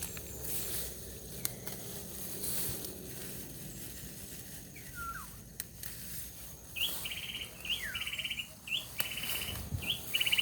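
Small bird chirping outdoors in short repeated high bursts, clearest in the second half, over a steady background hiss with scattered faint clicks; no talking.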